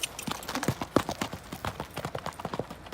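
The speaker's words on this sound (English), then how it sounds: "You know what's better than a Lamborghini? A real horse." A horse's hooves clip-clop on a ranch in a quick, even rhythm, close and distinct, with no other sounds over them.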